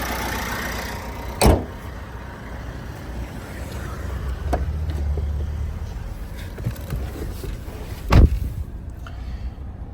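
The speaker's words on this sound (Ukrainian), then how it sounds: "Двигун працює добре, без підтікань, все сухенько" A 2016 Opel Astra K with a 1.6 diesel engine runs at a steady idle, a continuous low hum with two brief louder knocks or clunks standing out over it.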